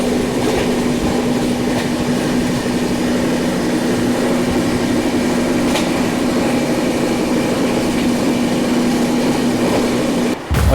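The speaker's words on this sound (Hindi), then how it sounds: "और ये फाइनली ओवरटेक कर रहे हैं श्रीधाम एक्सप्रेस को, बिल्कुल पैरेलल ओवरटेक हो रहा है ये" A Humsafar train runs alongside the Shridham Express on a parallel track while overtaking it, a steady loud rolling rumble with a sustained tonal hum and faint wheel clatter that continues unbroken, with a brief break right at the end.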